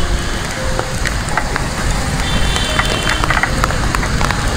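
Rain falls on an afternoon street on the outskirts of Saigon, a dense, even hiss of drops with scattered sharper taps on surfaces, steady and close with no talking.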